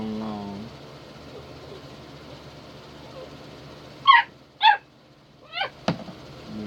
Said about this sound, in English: Little puppy, huh?